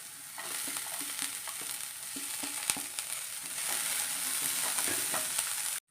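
Green chilies sizzle in hot oil in a frying pan alongside mustard seeds, dried red chilies and onion for a cabbage egg thoran, a steady bright crackle with soft stirring taps throughout, no talking.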